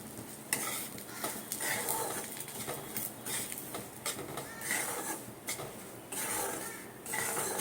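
Semolina being stirred and toasted in a kadai, with repeated scraping and rustling of a spoon against the pan at close range, steady and fairly loud throughout.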